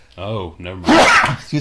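A single sneeze bursts out loudly at close range, with someone talking just before and after it.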